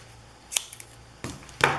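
Scissors snip through dimensional craft tape in a few crisp, close cuts, spaced irregularly over a quiet background hum.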